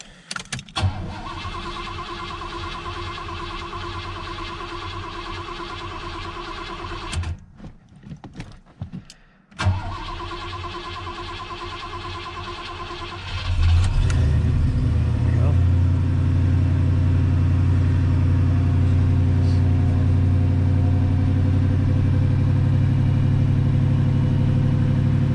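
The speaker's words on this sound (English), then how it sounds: "You gotta crank this one a really long time." A 1986 Oldsmobile 442's carbureted engine cranks for a long stretch with a steady starter whir, pauses briefly, cranks again, then catches and settles into a loud, even idle close by.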